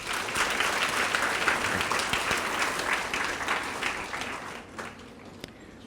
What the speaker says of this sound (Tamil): ஒரு கைத்தட்டு கொடுக்கலாமா?